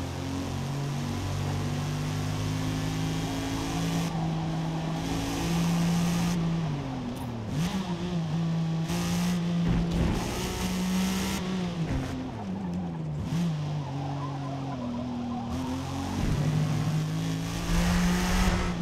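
A Forza Motorsport race car with race suspension, understeering through S-bends: a steady engine drone rises and falls with shifts and throttle, and tires scrub and squeal through the corners.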